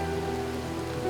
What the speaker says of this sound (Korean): 비가 내리기 시작하면 잠자리들은 모든 활동을 중단해야 합니다.